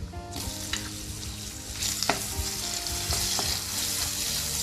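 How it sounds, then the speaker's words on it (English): Garlic and onions sizzle steadily in a hot pan, with occasional stirring scrapes and pops over a continuous bright frying hiss. "Once the garlic releases its aromas, I will add onions into it."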